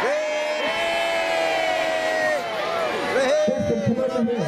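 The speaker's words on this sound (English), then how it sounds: "After three, I want you to wave and do a big cheer." A large crowd gathered outdoors at a Christmas lights switch-on in Bridgend cheers and whoops together, a loud sustained roar of many voices with high shouts layered on top.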